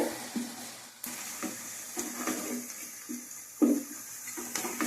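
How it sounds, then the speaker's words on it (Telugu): Onions frying in hot oil for chicken biryani, a steady close sizzle broken by irregular stirring knocks and scrapes in the pan, moderately quiet with no talking. "ఉల్లిపాయలు అయితే బాగా వేయించుదామండి"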